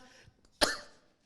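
A single sharp cough from a man preaching at a church service, loud and close, rising abruptly after a near-silent pause and trailing off quickly.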